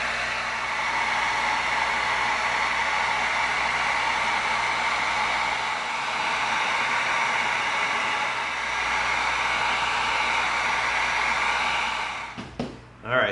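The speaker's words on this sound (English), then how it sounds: "now let's get the heat gun out. Let's tighten this foam up a little bit." A heat gun heats and tightens EVA foam, giving a loud, steady blowing roar that holds for over twelve seconds before cutting off with a brief clatter at the end.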